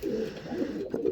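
Pigeons coo softly and continuously inside a breeding loft where white birds sit on eggs, a low murmuring warble close by with no voices.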